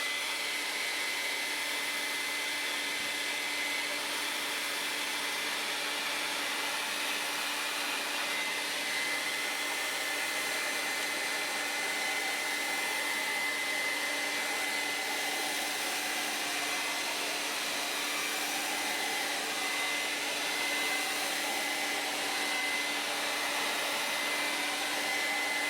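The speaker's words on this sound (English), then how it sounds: "I'm gonna just blast this with a blow dryer real quick" A handheld blow dryer blasts steadily over wet paint on paper, a loud, continuous airy roar with a faint whine that holds unbroken and close for the whole stretch, with no voices.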